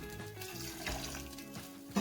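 Water poured into a cooking pot while making green gram curry in a home kitchen, a soft, steady splashing trickle heard faintly and close, without speech.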